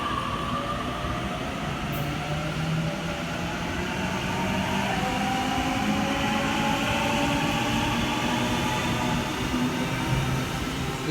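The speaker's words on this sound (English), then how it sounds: "Waratah departing platform 5 for a Penrith service." A Sydney Trains Waratah set pulls out of platform 5 on a Penrith service on the final day of the Carlingford Line, giving a steady, close rumble of wheels and motors that builds slightly as it departs.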